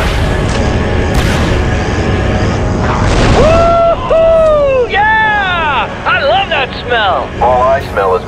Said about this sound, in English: my scanners show an explosion